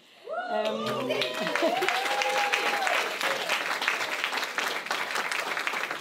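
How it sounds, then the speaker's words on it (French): Warm sustained applause from an audience for the winner of the Denise Lachance-Trudel prize, a dense steady wash of clapping that swells in quickly, with a voice speaking at the start and crowd noise underneath. "Tout le monde l'a applaudi"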